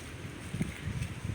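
Gusty wind buffets the microphone in a low, steady rumble with faint rustling among papaya plants, and no voices.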